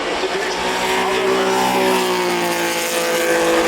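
A 1979 Williams FW07 Formula 1 car driving at the Goodwood Festival of Speed, its engine a loud, sustained racing whine that rises in pitch as it passes close by, with faint talk underneath.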